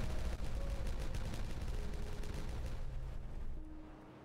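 Dynamite detonating in the beaver colony-building game Timberborn sets off a dense, rumbling burst of blasts and crackling debris that rolls on for several seconds before fading away.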